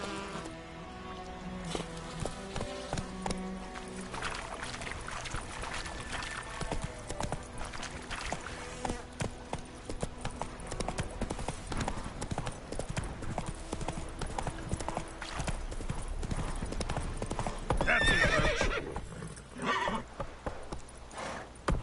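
The horse Roach in The Witcher 3 gives a steady clip-clop of hooves at a run, with a neigh near the end and faint buzzing insects in the background.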